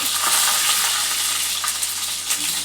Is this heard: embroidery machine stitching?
no